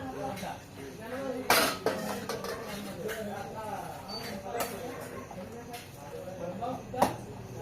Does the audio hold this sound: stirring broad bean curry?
yes